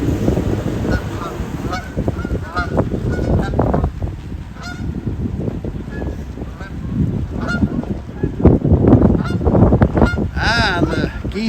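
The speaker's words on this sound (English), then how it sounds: "the geese are showing us the way" Geese honk repeatedly along a canal near Audlem, several birds calling in overlapping bursts at moderate distance over a low background rumble, growing busier toward the end.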